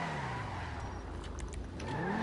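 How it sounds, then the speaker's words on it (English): A car drifting in GTA V, with continuous loud tire squeal and engine noise as it holds a slide, and no talking. "Definitely holds that drift well."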